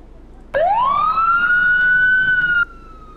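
An ambulance siren in the firefighting and rescue game Emergency 4 starts abruptly with a rising wail, then holds a steady loud tone for about two seconds before cutting off.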